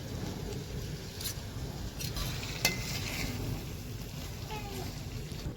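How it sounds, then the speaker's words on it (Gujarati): Butter going into a pan of simmering pulao gravy with boiled potatoes, giving a steady low sizzle and bubbling with a few light stirring clinks, close by. "એ હવે થોડુંક આની અંદર મખણ નાખી દેવાનું છે"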